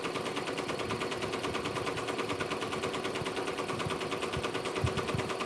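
A Ricoma embroidery machine stitches out a design in a fast, even mechanical chatter, the needle's rapid rhythmic tapping steady and continuous at moderate volume.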